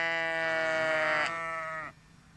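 A sheep bleating in a farmyard, one long, loud, quavering bleat close by that drops in pitch before cutting off.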